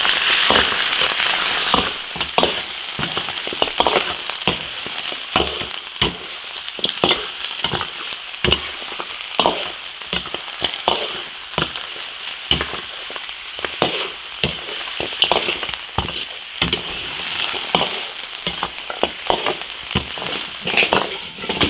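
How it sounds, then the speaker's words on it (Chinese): Beef ribs stir-fried in a hot iron wok give a loud, close sizzle broken by frequent crackles and irregular scraping stirs throughout, with no talking. "牛排骨下锅炒"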